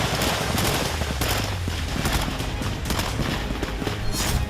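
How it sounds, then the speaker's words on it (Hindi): Machine guns fire rapidly in a war zone, with dense, continuous bursts of overlapping shots crackling loudly throughout without letup. "ताबड़तोड़ गोलियां बरसाती मशीन गन,"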